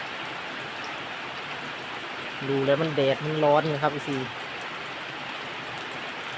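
Steady rain falls in a dense, even hiss across the whole stretch, while someone talks briefly over it in the middle.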